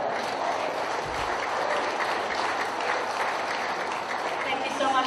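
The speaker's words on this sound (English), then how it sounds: "Please, one more round of applause." An audience claps steadily for about five seconds at a live event, a dense, even patter of many hands filling the room, with no pauses and a faint crowd murmur underneath.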